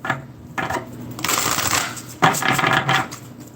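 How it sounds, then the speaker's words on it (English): Tarot deck being shuffled by hand in several bursts, crisp riffling flutters separated by short pauses, close and fairly loud with no voice over it. "Get some good shuffles here."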